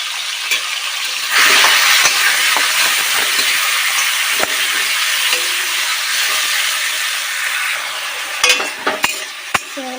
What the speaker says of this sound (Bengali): নুন হলুদ মেখে রেখেছি আগে থেকে, মেখে রাখা চিংড়ি মাছগুলো ভেজে দেবো